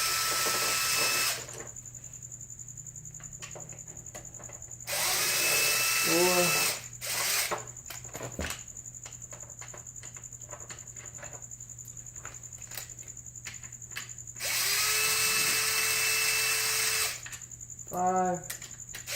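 A power drill spins out motorcycle clutch cover bolts in repeated loud whirring bursts, each followed by ratcheting and clinking of bolts, with quieter handling and talk in between.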